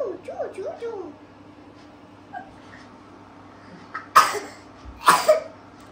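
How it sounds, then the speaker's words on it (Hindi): Two short, sharp coughs sound near the end, following a few faint voices and quiet background noise indoors. "क्यों खांसी करते तू?"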